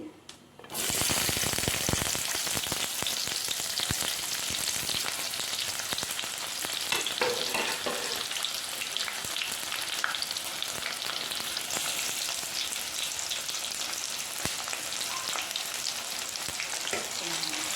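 Chicken frying in hot oil for a chicken gravy curry. A loud, steady sizzle bursts in after a brief quiet start and then crackles on close and unbroken, with no voices.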